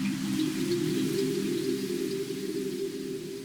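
A processed rain texture made with granular synthesis, a dense, steady hiss of droplets under a constant low tonal hum, continuous and fairly loud with no talk.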